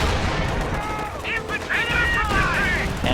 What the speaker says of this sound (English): Artillery is being dropped.